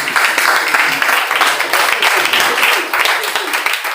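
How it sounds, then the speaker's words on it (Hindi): Children clapping continuously during a welcome ceremony at an international seminar at a college in Buxar, a dense steady patter of many hands, loud and sustained throughout. "बच्चे तालियां बजाते रहेंगे, तालियां रुकनी नहीं चाहिए।"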